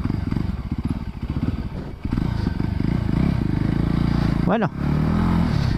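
A Voge 300 Rally motorcycle riding off road, its engine droning loud and close with rhythmic pulsing, a brief dip and a rising rev near the end, while a rider speaks briefly over it.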